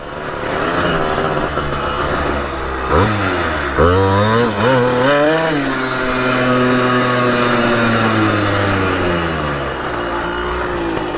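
A Simson moped engine revs hard during a wheelie at a moped rally, its loud buzzy two-stroke note rising and dipping in quick sweeps before holding a steady high whine.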